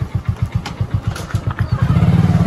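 A motorbike engine runs close by with a steady, rapid putt-putt pulse that grows slightly denser and smoother toward the end, heard alone without voices.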